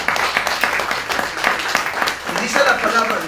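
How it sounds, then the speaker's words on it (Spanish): A church congregation claps together in loud, steady applause during a general service at a house of prayer, with cheering voices and a speaker's voice mixing in over the dense clapping. "den un fuerte aplauso al Señor"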